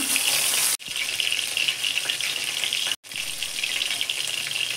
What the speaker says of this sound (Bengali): এই মাছটাও উল্টে পাল্টে আমি ভেজে নেব।